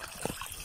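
Irrigation water trickles and splashes among sweet potato and chili plants on a farm, a short, close, gentle gurgle with a couple of soft splashes.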